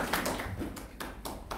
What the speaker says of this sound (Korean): 여러분 박수 한번 맞아주시면 감사하겠습니다